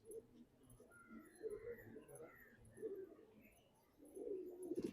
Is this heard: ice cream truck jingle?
no